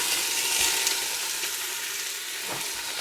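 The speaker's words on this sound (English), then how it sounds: "I'm going to go ahead and drop the lamb in here." Lamb pieces browning in a hot, smoking Ninja Foodi pot for lamb stew: loud, steady close sizzling and frying throughout, with a couple of faint stirring knocks and no talking.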